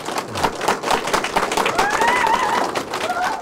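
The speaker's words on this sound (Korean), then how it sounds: "여러분들 큰 박수로 선생님을 모시도록 하겠습니다." An audience gives loud applause to welcome a speaker to a lecture, brisk close clapping from many hands with some voices mixed in, sustained throughout.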